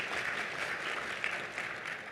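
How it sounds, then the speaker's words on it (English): A steady round of applause from a crowd at a Chamber of Commerce luncheon, continuous clapping at moderate volume with no voices over it. "Round of applause."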